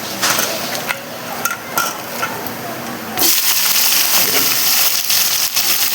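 Onions dropped into caramelized sugar in a hot pan, giving a few knocks and clatters followed by a sudden loud, sustained sizzle that fills the rest.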